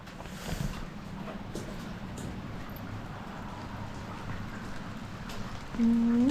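Rain falls steadily outdoors, a soft continuous hiss with scattered drops, heard alone without talk and rising slightly louder near the end.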